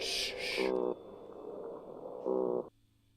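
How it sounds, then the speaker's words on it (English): A short electronic tone sequence plays: a high hissing burst, then low buzzing blips repeating twice with a droning hum between, ending in quiet. "That was the recorded sound of an actual fish."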